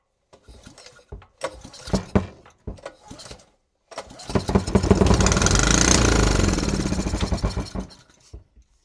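An old barn-find air compressor's engine sputters through a few uneven pops after a backfire, then catches and runs for several seconds at a rough, loud idle before cutting out.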